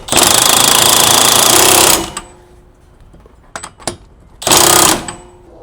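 An impact wrench runs on a nut to press a bearing into a Yamaha G29 golf cart, in a loud, close rapid hammering burst, then quiet clinks of metal and a second shorter burst.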